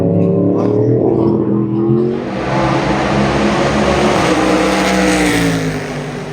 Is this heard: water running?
no